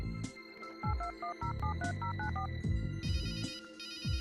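Telephone ringing on a call in the Runaway: A Road Adventure video game, repeated electronic ring tones pulsing in a steady pattern over background music, moderately loud.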